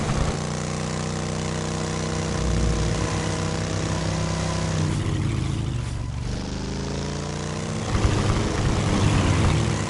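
Upgraded chopper motorcycle engine in the game Road Rage drones loud and steady with harmonic whine, pitch sweeping down then back up mid-run as it boosts, no talk over it.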